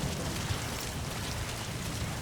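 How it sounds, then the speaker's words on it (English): Steady rainfall in Metal Gear Solid 5, a dense even wash of drops hissing continuously with no gaps or voices. "Sound of rainfall should help to mask your footsteps."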